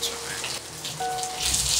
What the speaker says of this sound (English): It's raining over here too, babe.